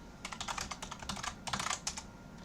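Fingers tap a computer keyboard at close range on a Windows 10 PC, a quick irregular patter of keystrokes in two short bursts with a brief pause between.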